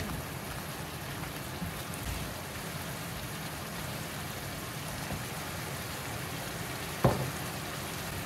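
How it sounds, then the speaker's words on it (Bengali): Spices and salt fry in a pan for a restaurant-style orange fish curry, giving a faint, steady sizzle throughout. A soft utensil clink sounds once near the end. "এগুলোকে একটু ভালোভাবে কষিয়ে নেব"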